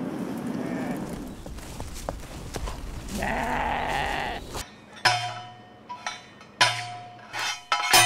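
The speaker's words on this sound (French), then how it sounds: "les moutons et les chèvres." Sheep and goats grazing on restored hillside grassland in France, with loud bleats from several animals, some close and overlapping and others in short separate calls, plus faint rustling and steps between them.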